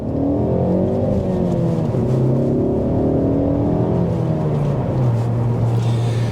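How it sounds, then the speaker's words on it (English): A remapped Ford Focus ST Mk3 accelerates hard away from a green light, its engine note rising loud and close through the gears with a sustained, climbing drone. "That is one of the nicest sounding engines I've driven."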